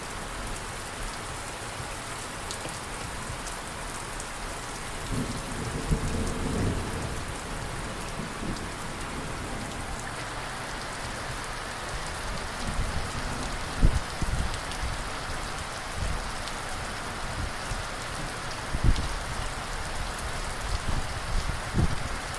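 A thunderstorm at Calliope in Central Queensland, with steady rain drumming on surfaces throughout and low rumbles of distant thunder rolling in midway, plus a few sharper drop impacts nearby.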